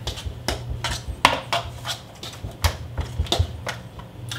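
High protein muffin batter being mixed in a bowl, a regular series of close, sharp utensil strikes and scrapes against the bowl at about two per second.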